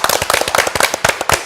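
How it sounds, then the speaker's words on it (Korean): A small group in a Korean talk-show studio claps hands, sharp close crisp claps in a quick uneven flurry lasting about a second and a half, loud and with no talk. "박수하고 시작해요"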